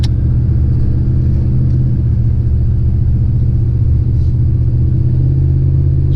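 A 2001 Dodge Ram 2500 pickup cruising easily at 30 mph gives a steady, loud, low rumble of engine and road noise heard from inside the cab, without a break.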